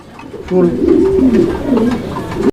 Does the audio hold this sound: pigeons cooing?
yes